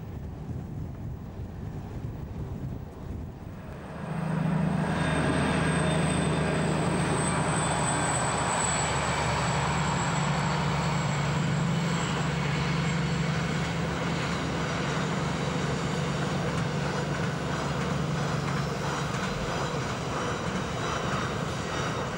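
Two class 218 diesel locomotives haul a long, heavy Sylt Shuttle car-transport train, a loud steady low engine drone with rumbling wheel noise that swells in after a quieter start and holds on, with wind buffeting the microphone.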